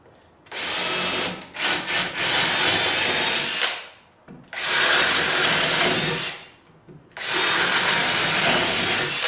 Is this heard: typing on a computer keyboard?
no